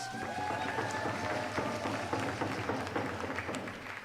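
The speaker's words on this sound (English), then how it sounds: "Give her a round of applause, please." A crowd at an Indigenous Peoples' Day celebration at City Hall applauds Colleen Echo-Hawk, a steady, dense patter of many hands clapping at moderate distance, fading slightly toward the end.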